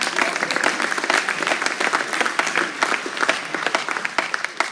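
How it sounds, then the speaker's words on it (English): A church audience claps steadily and briskly, a dense crowd of hands sounding moderately loud and continuous throughout. "You can clap for that"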